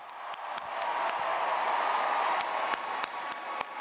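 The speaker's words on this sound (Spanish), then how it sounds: "Saludos y aplausos" Applause and cheering from a crowd at a campaign rally, a dense steady wash of clapping with a few sharper claps standing out, loud throughout.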